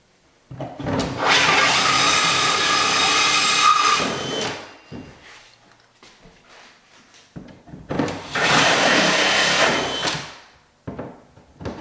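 A hole saw bores through the back panel of a bathroom vanity cabinet, making two sustained loud bursts of grinding, whirring cutting close by, separated by a short pause.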